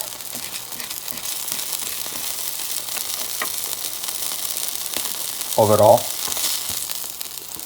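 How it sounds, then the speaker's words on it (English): Scallops and shrimp searing in a pan for spaghetti, giving a continuous close sizzle throughout, with a short spoken word briefly breaking over it. "because what you're doing is you're going to sear them now"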